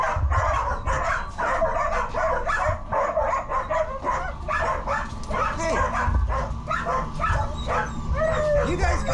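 Excited greyhounds at a dog track barking, yipping and whimpering in a constant chorus of overlapping calls, close and loud, with a person's voice also heard speaking.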